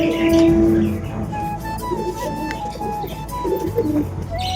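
Pigeons coo close by in a home loft, with throaty calls rising and falling over a steady background hum and scattered faint clatter.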